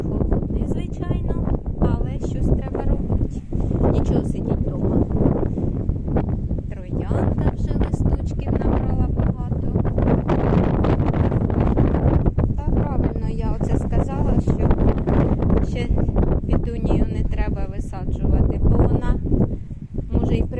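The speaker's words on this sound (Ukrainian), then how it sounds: "то такий холоднючий вітер" Strong, cold gusty wind buffeting the microphone in a steady roar in a garden, with someone talking over it.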